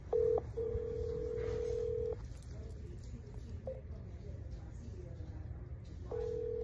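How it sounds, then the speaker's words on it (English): A phone on speaker dialing a call, with several steady touch-tone beeps, one long and a few short, sounding loudly and close over a faint background hiss. "So we're gonna try to call them."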